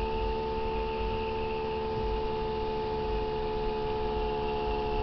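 Small electric motor running steadily with a bulb load removed, a constant tonal hum with fixed pitch lines and no voices over it.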